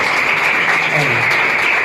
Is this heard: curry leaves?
no